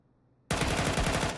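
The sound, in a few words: gunfire spray in Counter-Strike video game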